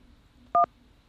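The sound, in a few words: phone keypad tone, pressing 1 to accept call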